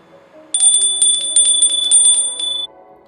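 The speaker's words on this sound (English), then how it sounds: "you rang a bell" A small bell rings rapidly and brightly, a dozen or so quick dings close up for about two seconds, then stops.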